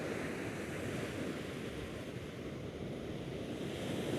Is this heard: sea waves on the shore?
yes